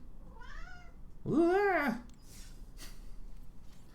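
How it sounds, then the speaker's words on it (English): A little furry brown cat lets out a faint short meow, then a louder, drawn-out rising and falling meow close by, followed by quiet room noise. "Hard time to be a little furry brown cat, you know."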